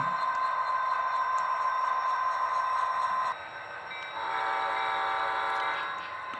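An HO scale model train rolls through a road crossing on a layout, giving off a steady tonal hum and rumble that shifts in pitch partway through, continuous and fairly close with no talk.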